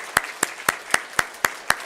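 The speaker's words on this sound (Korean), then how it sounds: "우리 박수하겠습니다." A church congregation claps in unison during a Sunday worship service, giving seven sharp, evenly spaced claps in a steady quick rhythm.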